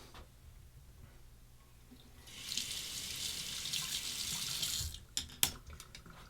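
Tap water runs into a sink as a razor is rinsed, a steady rushing stream for a few seconds followed by a couple of knocks and drips.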